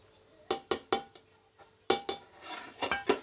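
A metal spoon scraping and clanking inside a cooking pot while finely chopped coconut is mixed, giving a series of sharp close knocks with brief pauses, then softer scraping and a quicker cluster of clinks.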